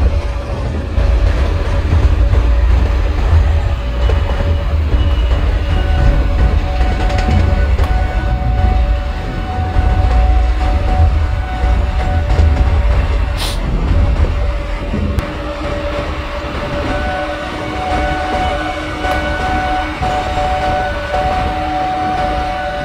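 Passenger train 51809 Kanpur–Tundla Fast Passenger in Microsoft Train Simulator, running on Indian rails with a steady low engine rumble and a sustained horn-like tone, slowing at signals, continuous and close with no talk.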